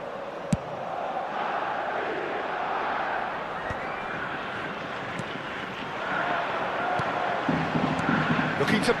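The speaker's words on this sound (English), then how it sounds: "certainly gave this crowd something to really cheer about" Stadium crowd roaring and cheering in the eFootball video game, a broad sustained swell of noise with sharp bursts, heard under the commentators' voices.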